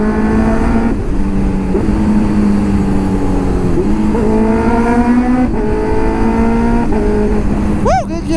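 A Honda CB650R motorcycle on a family ride in Tarlac drones steadily close by, its engine note rising and falling through several gear changes, with a person speaking over the continuous roar.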